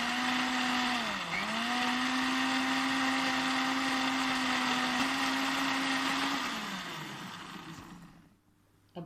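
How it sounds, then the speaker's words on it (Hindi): A blender grinds green spices with a little water, a loud, steady whine, its pitch dipping briefly early on, then winds down and stops near the end. "सबसे पहले इन हरे मसालों को हम पीस लेते हैं।"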